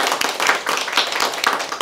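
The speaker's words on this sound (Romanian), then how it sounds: "haideți să le aplaudăm medicilor noștri" Audience at a Romanian event applauding doctors, a steady patter of many hands clapping close by with no break and no voices over it.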